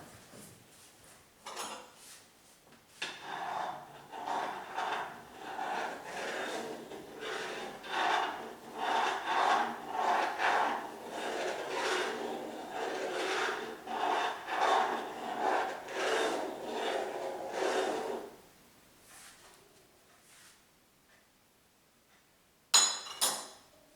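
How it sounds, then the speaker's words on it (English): A soup pot being stirred with a utensil, a close rhythmic scraping and rasping that keeps a steady back-and-forth beat for about fifteen seconds, then stops. "I should probably stir this soup really quick."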